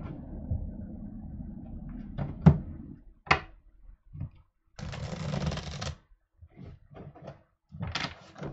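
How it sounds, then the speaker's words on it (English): Tarot cards are shuffled by hand in a few short riffling bursts and soft slaps, close and fairly loud, separated by quiet gaps and scattered handling knocks. "Now let me shuffle again"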